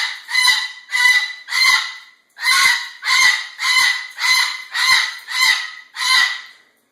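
A pet bird calls loudly and close, about ten harsh honking squawks in a steady rhythm with a short pause after the first three, each call separated by silence.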